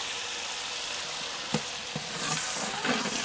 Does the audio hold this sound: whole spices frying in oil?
yes